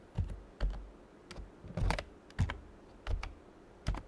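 Close, crisp keystrokes on a computer keyboard as code is typed, coming in short irregular bursts of clicks with brief pauses between them, with no voices.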